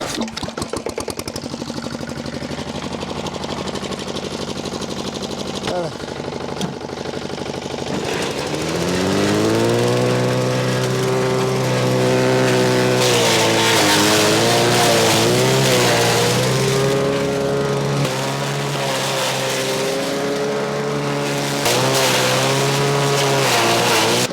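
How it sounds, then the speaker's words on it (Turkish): A homemade wood-grinding machine driven by a walking tractor's engine runs loudly and steadily, its pitch rising as it revs up partway through and then holding a rough, mechanical drone with slight wavering under load. "Pat patın motoruyla faydalanarak bir ağaç öğütme makinesi yaptım."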